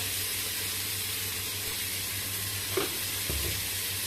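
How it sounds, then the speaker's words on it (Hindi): Onions and tomatoes fry on low heat with salt in a pan, a steady close sizzle broken by two brief scraping stirs near the end. "इसको चला के अच्छे से मिक्स कर लीजिए और धीमी आंच पे प्याज और टमाटर को गलने देते हैं।"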